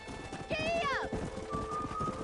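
A horse in the Red Dead Redemption video game gives a short whinny and then gallops, its hoofbeats close. Game dialogue and ambient sound continue underneath.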